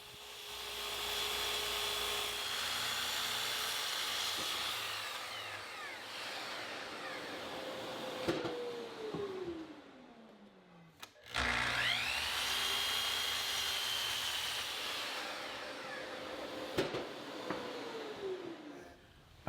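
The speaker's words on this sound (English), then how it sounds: "I'll set up a stop block and cut the parts to length." A saw cutting solid walnut cabinet parts to length against a stop block, two sustained loud cuts of roughly eight seconds each, whining steadily with the pitch sagging as each cut ends and a brief pause between them.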